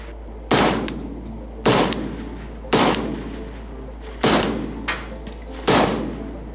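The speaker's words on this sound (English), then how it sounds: "this is how you can have faster follow-on shots" An AR rifle firing rapid follow-on shots at a long-range shooting setup: five loud sharp cracks spaced roughly a second apart, each followed by a brief decaying echo, outdoors.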